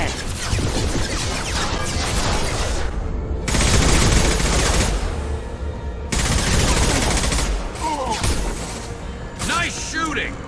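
Dense, loud gunfire in a Mass Effect 2 battle, rapid bursts and cracks with crashing impacts, broken by short gaps, while voices talk over the fighting.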